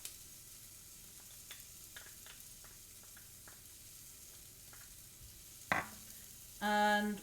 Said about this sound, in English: Now I'm gonna chuck in the peppers.